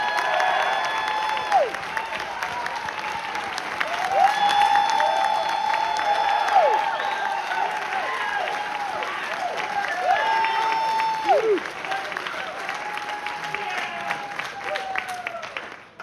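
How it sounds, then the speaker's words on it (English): A school jazz concert audience claps and cheers for young trombone players, a long loud wash of applause with scattered whoops and shouts on top, holding strong before thinning toward the end. "So give them a round of applause"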